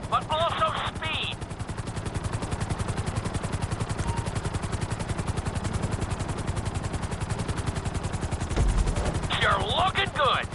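A helicopter in the GTA video game beats steadily with a rapid, loud rotor chop throughout, joined by bursts of higher mechanical whine at the start and end.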